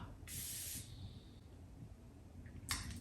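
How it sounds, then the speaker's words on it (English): Chanel Hydra Essence face mist gives two short, bright sprays close up, the first lasting about half a second and the second coming after a pause, against a quiet room. "and just spray it in your face"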